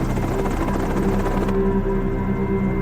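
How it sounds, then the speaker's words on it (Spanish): Helicopter flying over mountains at night, its rotor thumping and engine droning continuously and loudly throughout, with no voices. "un escándalo debido a un misterioso helicóptero que solo vino a una cosa"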